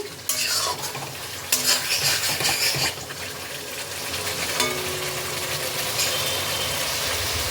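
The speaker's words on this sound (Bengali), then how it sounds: "টমেটোটাকেও মশলার সাথে ভালো করে মিশিয়ে নিচ্ছি" Chopped tomato being stirred into frying masala in a pan on a gas flame, with clattering spoon scrapes against the metal over a steady sizzle, close and busy with no voices.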